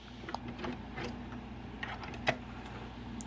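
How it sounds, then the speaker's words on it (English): A sewing machine stitches an automatic buttonhole, giving a soft continuous mechanical whir with faint rhythmic ticks and a few sharper clicks, fairly quiet and close. "This then tells the sewing machine that it needs to sew an automatic buttonhole"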